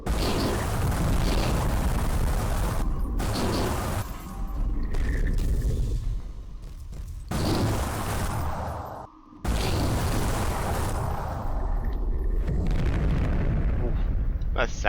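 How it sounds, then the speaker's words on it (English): Gunfire and impact blasts from Pelvareign tech in a video game, loud heavy booms and bursts repeating in long sustained stretches with brief gaps between volleys. "What do you think of the sounds of the gun and the impacts?"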